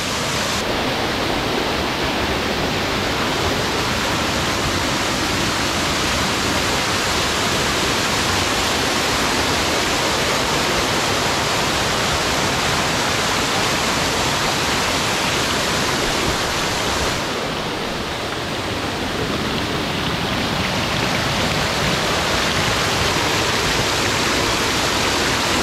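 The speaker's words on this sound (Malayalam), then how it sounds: "അടിപൊളി വെള്ളച്ചാട്ടം ഒക്കെ അടിപൊളി കേട്ടോ." Waterfall at Manippara in Keezhillam: a steady, loud, broadband roar of falling water continuing throughout with no speech, dipping slightly for a moment partway before resuming at full strength.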